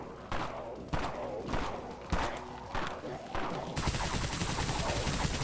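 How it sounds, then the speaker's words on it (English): Unsilenced pistol in the Dead Frontier video game fires five loud, sharp shots at roughly even intervals, then gives way to a dense burst of rapid gunfire and clatter. "The gun is definitely loud"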